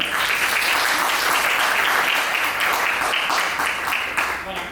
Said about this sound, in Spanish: Recibámosles con un aplauso, por favor.